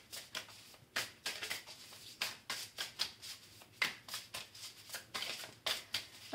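A deck of oracle cards being shuffled by hand, a steady run of close, crisp riffling and slapping bursts about twice a second, with no talking.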